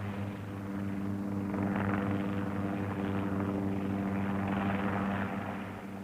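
Helicopter over the island of Sira (Syros): steady rotor thump and engine drone fill the cabin, loud and continuous throughout.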